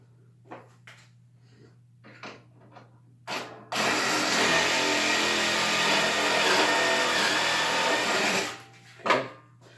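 A drill bores pocket holes through a clamped wooden workpiece held in a Kreg pocket hole jig, one loud, steady whirring burst lasting several seconds, framed by quieter clicks and handling noises before and after.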